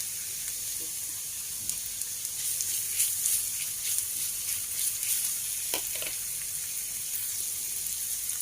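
Steady sizzling of garlic and ginger frying in hot oil with onions, a soft continuous crackle with occasional stirring scrapes, no voices.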